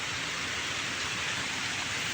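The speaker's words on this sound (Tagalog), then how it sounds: "malakas-lakas yung ulan" Heavy rain falls steadily on a garden of guava, bignay and dragon fruit plants, making a dense, even hiss that stays constant for about two seconds with no voices.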